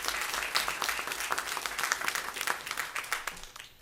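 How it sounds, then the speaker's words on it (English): Audience at a city council meeting breaking into sustained applause, dense clapping from many hands at steady loudness that tapers slightly toward the end. "Let's give her a round of applause."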